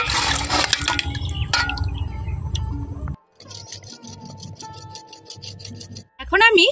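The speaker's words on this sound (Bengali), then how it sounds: "আর এই রকম গ্রেটারে কাটলে আলুগুলো ভীষণই পাতলা হবে আর একই সাইজের হবে।" Potatoes scraped across a grater to cut thin, even chip slices, producing close, harsh rasping strokes broken by short pauses.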